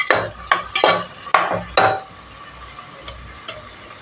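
A spoon scrapes and clanks against a pan while chopped onions are stirred into a cauliflower potato gravy, in several sharp metallic knocks that thin out into a few lighter taps.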